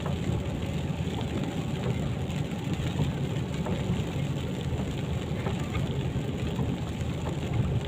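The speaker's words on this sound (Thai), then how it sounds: "ฝนตกสภาพอากาศก็เป็นใจมาเลย" Rain comes down around a truck on a long drive from Malaysia to Savannakhet, Laos, a continuous rushing patter over a low engine rumble that stays even and close throughout.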